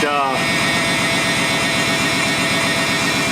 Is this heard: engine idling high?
yes